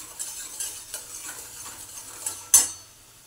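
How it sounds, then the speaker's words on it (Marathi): Spices with turmeric being stirred in oil in a pan, a soft sizzle under intermittent scrapes of a spoon, ending with one sharper clink of metal against the pan. "नंतर हळद आणि याला चांगलं तेल सुटेपर्यंत परतून घ्यायचं."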